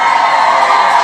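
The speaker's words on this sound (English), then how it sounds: "Let's give the beautiful straight facts a round of applause." A studio audience cheers and whoops in a steady, dense roar that fills the whole moment with no break.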